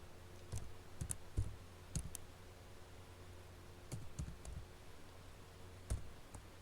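A computer keyboard is typed on in quiet, scattered bursts: a handful of close, light key clicks with pauses between them over a low, steady room hum.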